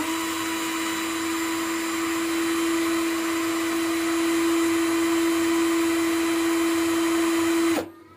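NRT Pro DC330 cordless drill spinning at speed setting 1, a steady high motor whine with a strong tonal hum, running evenly and loud before abruptly winding down at the end.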